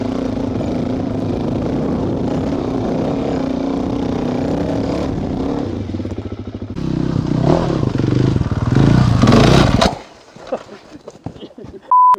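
Dirt bikes, including a Suzuki DRZ, ride muddy trails with a loud, close engine roar that rises and falls with clattering and scraping, then cuts to quieter rustling near the end.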